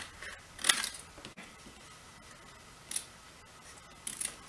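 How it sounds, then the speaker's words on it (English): Scissors snip through a paper stencil for a Christmas and New Year pop-up card, giving three quiet, crisp cuts spaced apart in an otherwise hushed room. "And now I'm going to go ahead and cut out my stencil."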